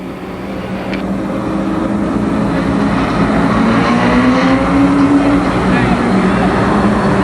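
Race cars circling Columbus Motor Speedway, a steady loud engine drone building slightly as the pack passes, with a rising engine tone near the middle over a constant rushing roar.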